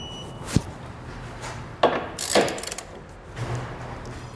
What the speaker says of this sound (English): We can now go back and torque our hardware to the specifications outlined in our instructions.